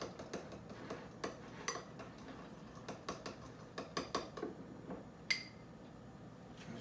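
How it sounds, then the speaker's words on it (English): A spoon mixing a drink, giving a run of light, close metallic clinks and taps against the glass at an uneven pace, quiet and without speech. "you get your spoon and kind of mix it together"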